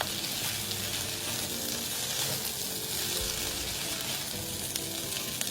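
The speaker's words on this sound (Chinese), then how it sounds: "做最后一次拌炒" Vegetable leaves and red chili stir-fried in a wok for Dongyan rice noodles, a loud, continuous hissing sizzle with scraping stirs, close up and uninterrupted.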